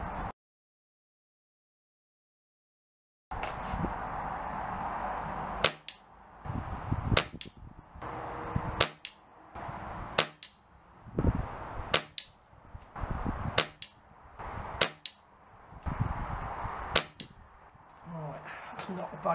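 An air rifle fires pellets at a target set at 30 yards at a shooting club, about a dozen sharp, evenly spaced snaps in the open air, each followed by a short ring, after several seconds of silence.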